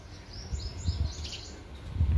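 Sparrows chirp in short, faint, high twitters around a nest built in a tulsi plant pot, with low background rumble and no talk.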